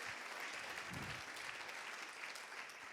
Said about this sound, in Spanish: Quiero pedir un fuerte aplauso para él, por su experiencia y por todo lo que nos ha contado.